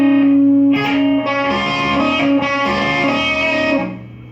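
A distorted electric guitar plays a short riff built on pull-offs and slides, with sustained notes shifting pitch, loud and close, with no talking over it.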